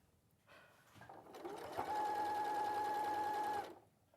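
A sewing machine stitches in one steady continuous run of about two seconds, starting after a brief pause and stopping cleanly, with a sustained whirring hum and no talk over it.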